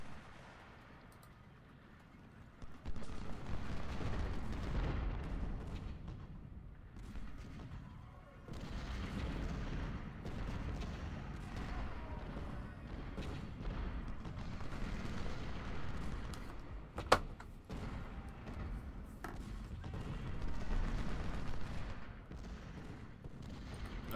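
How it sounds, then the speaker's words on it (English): Rumbling cannon fire from 24-pounder guns in the Ultimate General: Civil War game during an assault on Washington, a continuous low battlefield roar with one sharp report near the middle. "I want these 24 pounders firing on him here"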